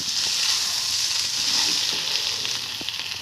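Fish fries in a pan while being stirred, a continuous close sizzle with faint scraping stir sounds and small pops, easing slightly toward the end, with no talking.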